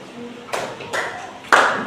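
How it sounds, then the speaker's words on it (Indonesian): Three separate hand claps ring out at uneven intervals in a classroom counting game, each a sharp burst over a quiet background, with the last one the loudest. "Di angka itu kalian harus tepuk."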